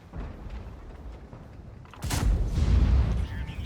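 Tank cannon fire in World of Tanks: a sudden loud boom with a long rumbling decay cuts in about halfway through, following a stretch of low engine rumble and background game noise.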